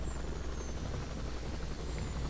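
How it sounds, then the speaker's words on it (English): Bell H-13 Sioux helicopter engine in the X-Plane flight simulator, a steady loud rotor and turbine-like whine running continuously, with no talking. "let's shut down her engines"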